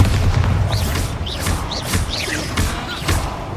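Bombarda explosion spells cast in Hogwarts Legacy land as a quick run of booming blasts, each with a short whooshing chirp, repeating about every half second over a steady rumbling game background.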